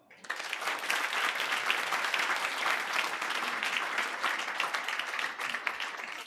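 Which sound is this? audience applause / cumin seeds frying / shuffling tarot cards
audience applause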